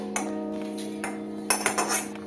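Metal utensils clink against a pan as freshly fried spice mix is poured out, a few short bright knocks over a steady low hum, close and fairly quiet.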